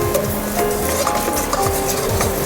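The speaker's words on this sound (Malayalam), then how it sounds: "ഈ ചേന ഇതിലേക്ക് നല്ലോണം ഇട്ട് ആ നെയ്യും ചേനയും" Elephant foot yam being sautéed in ghee for payasam, a spoon repeatedly scraping and stirring in a pan over a gentle sizzle, rhythmic and close, with light metallic clinks and no voices.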